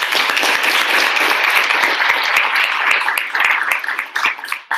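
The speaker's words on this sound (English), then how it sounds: "I'd love to give a huge round of applause to everybody that just presented today" An audience at a data science capstone showcase applauds the presenters, dense sustained clapping from many hands that thins out toward the end.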